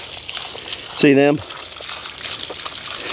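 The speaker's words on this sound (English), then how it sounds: "They love it whenever I fill up the water trough and let it run for a little while." Water runs steadily into a water trough, a continuous splashing trickle heard throughout, with someone briefly speaking over it partway through.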